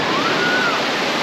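Strong sea waves roar along the coast near Datça and Kaş in southern Turkey, a loud, steady wash of surf with no break, heard alone.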